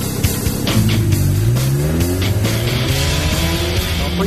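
A homemade car built from scrap metal accelerates hard, its loud close engine climbing steadily in pitch through rising revs with brief gear-change dips, no voices over it.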